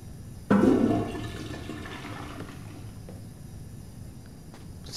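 A toilet flushes in the remastered video game Fahrenheit: Indigo Prophecy, opening with a sudden loud rush of water that tapers into a long, quieter draining and refilling wash.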